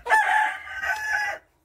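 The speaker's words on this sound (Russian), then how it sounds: "Это петух Брама" A Brahma rooster crows once nearby, a single drawn-out call in two phrases lasting just over a second.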